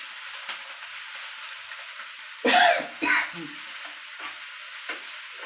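Lentils and spices roasting in oil for a peanut chutney, with a faint steady sizzle broken by a few louder bursts of stirring and scraping in the pan and some small clicks.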